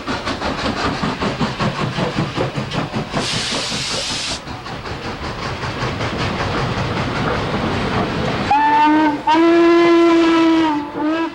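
Steam locomotives 4501, 611 and 1218 triple-head a train, chuffing loudly in a rapid rhythm with a sharp burst of hissing steam, then long, loud steam whistle blasts near the end.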